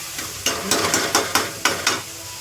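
Onions stirred with a utensil in a hot pan for chole, six or seven distinct scraping strokes in a steady rhythm over a soft background sizzle, close and fairly loud, no talking.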